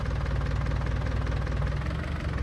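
A small farm tractor engine runs steadily under load while lifting heavy bales, a close, continuous low rumble with a knocking, idling chug throughout and no talk.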